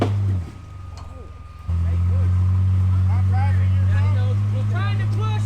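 A 2018 Jeep Wrangler JLU Rubicon engine drones loud and steady at night on Barnwell Mountain trails, dipping briefly then surging as it strains to climb a tree, with people talking over it throughout.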